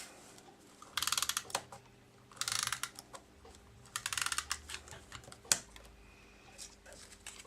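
Adhesive tape runner rolled across the back of textured cardstock pieces for a scrapbook page, giving several short rapid clicking, ratcheting bursts close by, with quiet pauses between and no talk.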